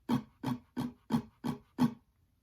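Six evenly spaced acoustic guitar strums from the pattern for a song, played without accents, each roughly equal in loudness, close and alone.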